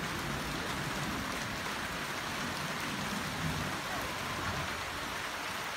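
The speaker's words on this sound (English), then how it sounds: "Love the rainy days." Rain falling steadily on a rainy day in Aguada, Puerto Rico, an even, moderately soft patter of drops on surfaces with no breaks.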